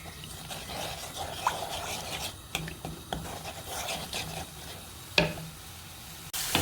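Salt and vegetables fry in a pan for a veggie biryani, a soft continuous sizzle broken by occasional scrapes and clinks of utensils, quiet and close.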